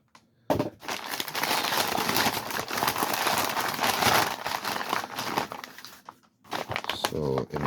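Loud, close crinkling and rustling of paper wrapping around an item from a reinforced cardboard box runs for several seconds, pauses briefly, then resumes with a short bit of handling noise.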